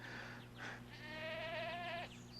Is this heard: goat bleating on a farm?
yes